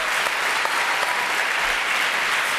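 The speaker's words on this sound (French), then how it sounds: "quelques applaudissements" A French audience applauds loudly for Régine, with many hands clapping in a thick, continuous burst that stays level from start to finish, and no one talking over it.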